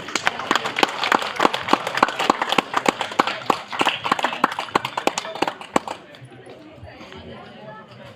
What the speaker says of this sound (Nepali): उहाँहरूलाई तालीले साथ दिनु होला।